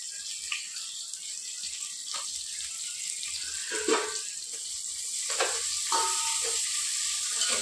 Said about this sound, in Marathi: त्याच्यामध्ये आपल्याला हा कांदा ॲड करायचा आहे। कांदा आपल्याला चांगला लाल होईपर्यंत परतवायचा आहे।